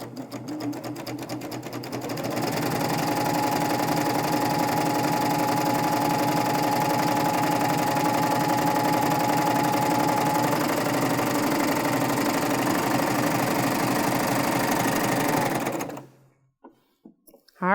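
A sewing machine stitches binding onto a drawstring backpack at stitch length 3, running in one steady, close whir for about fourteen seconds before stopping, with no voices over it.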